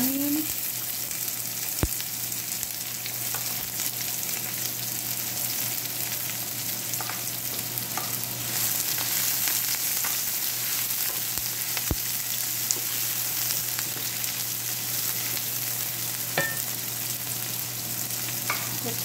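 Onion frying in a pan for stir-fried okra: a loud, steady, close sizzle throughout, with occasional clicks and scrapes from stirring and no voices.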